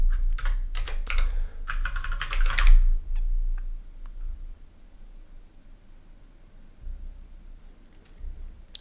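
A burst of quick, close keystrokes on a computer keyboard for about three seconds, followed by a few scattered single taps in a quiet room.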